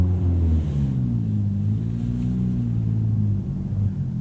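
An Acura Integra engine rumbles low and steady, its pitch sliding slightly up and down as the car moves, heard alone without speech.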